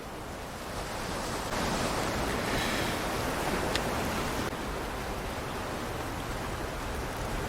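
Steady rushing wash of ocean surf, a continuous soft roar with no voices, holding level before cutting off abruptly.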